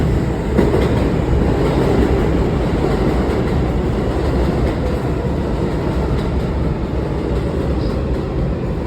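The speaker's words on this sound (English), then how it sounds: "actually, it's actually coming to the station, so you guys can watch with me" A New York MTA subway train pulls into the station with a loud, steady rumble and rattle of cars that fills the whole stretch, close by and continuous, with no one speaking.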